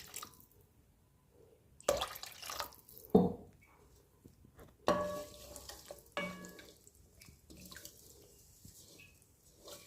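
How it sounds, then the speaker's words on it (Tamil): A spoon stirs chicken curry in a pan, giving a few sharp scraping clanks and soft wet shuffles over a faint simmer, quiet and sparse with no talk. "இப்போ நல்லா கிண்டி விட்டாச்சு"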